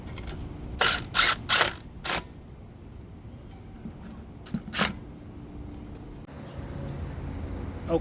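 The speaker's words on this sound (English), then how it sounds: "put these screws back in" Screws being driven back in after a front brake and rotor job on a 2007 Hyundai Veracruz, heard as a quick burst of close mechanical clicking and ratcheting, then one more short click amid quiet shop background.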